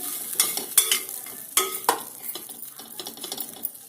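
Sweet potatoes dusted with a teaspoon of sugar are stirred in a pot with a spoon, giving close scraping and clinking strokes against the metal over a soft sizzle, with several sharper knocks and no talking.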